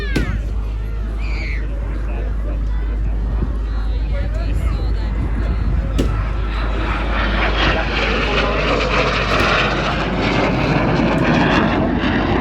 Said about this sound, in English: BAC 127 Strike Master, as I said, the development of these very successful jet Provost built in the 1950s